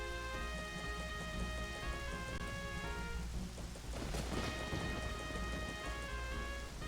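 Steady rain pours in the video game Majora's Mask, with a rumble of thunder rolling through midway, over a quiet background tune and with no voices.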